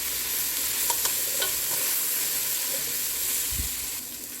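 Vegetables cooking down in a pan, meant to soften for a puree, with a steady broad sizzle and hiss and a few soft scraping stirs, close and continuous.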